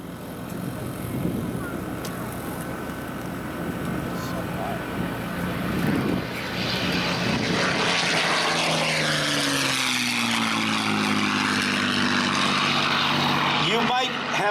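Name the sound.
P-51C Mustang propeller warplane flying past at an air show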